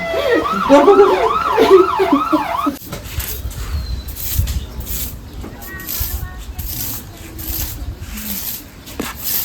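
A police car siren wails, rising and falling loudly for about three seconds, then cuts off, leaving background noise with scattered voices.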